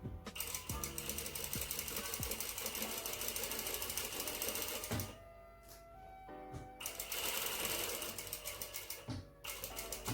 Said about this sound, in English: And now we're going to do an edge stitch real quick